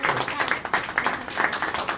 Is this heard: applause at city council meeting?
yes